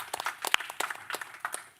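Scattered, fairly faint applause follows a talk at a panel on European digital governance. A small number of separate claps are heard, with one sharper clap standing out midway.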